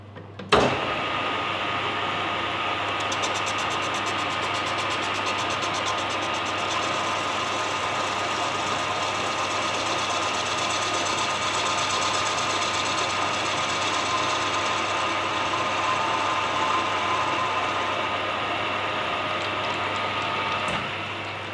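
A lathe takes a light facing skim across the end of a snooker cue peg, giving a steady, continuous mechanical whir with a constant low hum throughout, with no talk.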